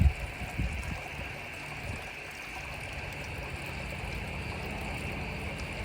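Water splashes and trickles continuously from a garden water feature, with a steady low rumble of traffic in the background.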